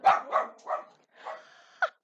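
A dog barks nearby in a quick run of about five sharp, close barks with brief gaps between them, loud and alone with no talking.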